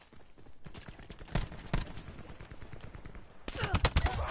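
Rapid automatic gunfire bursts in the shooter game Black Ops 4, dense and fairly close, crackling almost continuously with a heavier flurry near the end.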